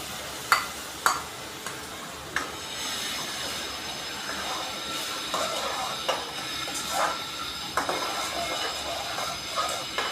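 Tomato paste is stirred into well-cooked onion in a pan for chole masala, giving a steady scraping hiss broken by a few sharp spoon clinks against the metal, close and fairly quiet, with no talking.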